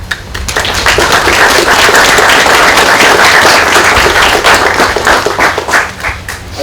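Audience applause at a Memorial Day ceremony, a dense sustained crowd of clapping that swells quickly, holds loud and steady for several seconds, then thins slightly toward the end.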